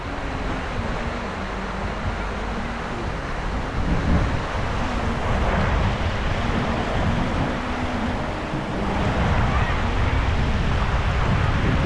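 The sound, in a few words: strong current of a shallow river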